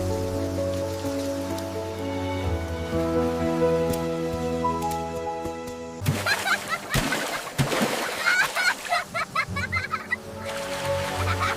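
Monsoon rain begins after soft background music fades, a dense close patter and splatter on surfaces that carries on steadily to the end.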